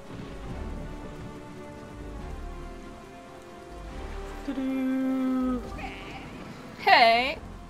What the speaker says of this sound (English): Fishy, can you tell me why it's raining?